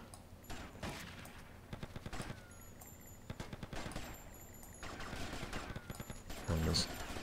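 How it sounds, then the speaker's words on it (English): Repeated shotgun blasts in GTA Vice City, a dozen or so sharp reports spread irregularly across the scene, with quieter game sounds between them. "That is a fuckload of shotgun rounds."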